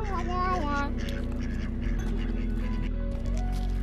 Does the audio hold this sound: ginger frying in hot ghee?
no